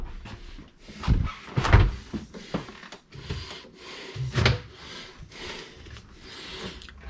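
A freezer drawer with a built-in ice maker in a tiny house slides open and shut, giving soft thuds, rubbing and rattling knocks at irregular intervals, close and fairly quiet.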